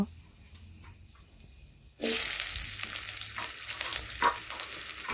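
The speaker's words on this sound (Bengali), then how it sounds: "এইভাবে নাড়াচাড়া করে একটু ভেজে নেব" Chopped onion hits hot oil with dried red chillies and whole cumin, a loud sizzle bursting in after a quiet start and then hissing steadily with occasional crackles as it is stirred.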